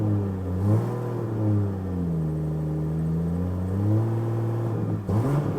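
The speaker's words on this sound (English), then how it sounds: "Very nice, sweet inline 6 engine sound." A 2023 BMW M340i's inline-six engine revs up and settles, a smooth, bassy drone rising and falling, heard from inside the car, with a sharper second rev near the end.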